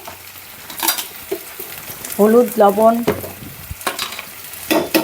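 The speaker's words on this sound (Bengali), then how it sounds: "এখানে কিছু আমি রসুন কুচিও দিয়ে দিছি এখন হালকা ভাজা হয়ে গেছে" Green chillies and chopped garlic sizzle as they are stirred in a pan, close and steady, with occasional scraping and a short stretch of talk in the middle.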